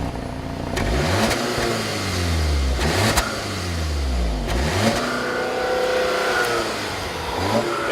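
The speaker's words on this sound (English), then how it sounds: "It's like a magical puff of little exhaust note." A 2015 Audi A3 with a 2-liter engine accelerates, its quiet exhaust rising through several gear changes in sweeping pitch climbs, heard from nearby and steady throughout.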